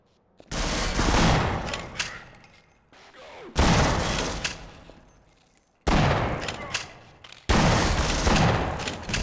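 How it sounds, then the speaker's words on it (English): Gunfire from the Half-Life video game sounds in four loud bursts, each booming in sharply and trailing off before the next volley aimed at the player. "They're shooting at me."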